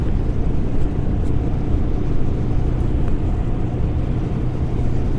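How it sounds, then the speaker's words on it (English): A Voge 350AC motorcycle engine drones loud and low as the rider rolls on the throttle, a dense steady rumble mixed with wind buffeting. "Just rolling on the throttle,"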